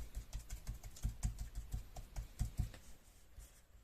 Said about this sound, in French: Je viens tapoter avec mon applicateur